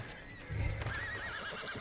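A horse whinnies in Red Dead Redemption, a single wavering neigh that swells to full loudness halfway through, with a low rumble underneath and a quieter tone before it.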